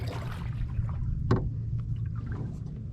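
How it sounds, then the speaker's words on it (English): A boat is paddled along the calm, flat St. Johns River, with soft low water wash and one brief splash of a paddle stroke midway, no one talking. "So here I am, just paddling,"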